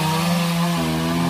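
A chainsaw cuts into the base of a trunk on a Golden Wattle or eucalyptus tree, its loud, steady buzzing close by with the pitch dropping slightly as the blade bites in.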